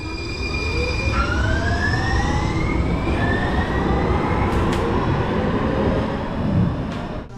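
A San Francisco Muni streetcar runs through the old Twin Peaks tunnel beneath the hills, a loud continuous rumble with long rising wheel squeals echoing in the enclosed bore.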